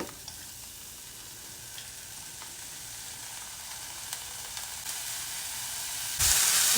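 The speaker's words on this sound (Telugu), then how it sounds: "ఒక టీ స్పూన్ నెయ్యి వేసుకుందాం ముందు క్యారెట్ వేయాలి వేయించుకుందాం అన్ని క్యారెట్ బీన్స్" Carrots and beans fry in ghee with a soft, steady sizzle and occasional light stirring clicks, rising to a louder hiss near the end.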